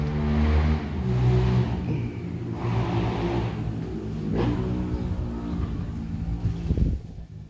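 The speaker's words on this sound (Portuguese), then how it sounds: "Deixa a moto passar" A motorcycle engine rumbles past close by, rising and fading with wind buffeting the microphone.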